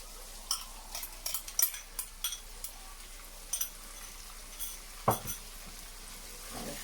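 Chana masala with chopped tomato stirred in a pan: faint soft sizzling under scattered spoon scrapes and clinks against the pan, irregular and close.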